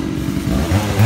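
Chainsaw (Stihl 046) cutting a large tree trunk outdoors on a windy day: a loud, close, rough buzzing engine drone that swells and bogs as the chain bites into the wood.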